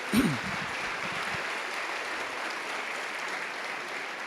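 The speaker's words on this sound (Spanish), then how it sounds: "Le da un aplauso entonces al Señor" A church congregation breaks into sustained applause for the Lord during a Sunday morning service, a steady wash of many hands clapping that holds evenly after a brief spoken word at the start.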